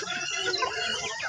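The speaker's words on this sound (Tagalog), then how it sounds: "Daghan guys lag manok ni Kikin." Many chickens cluck and squawk together in a dense, continuous chorus, fairly close and steady throughout.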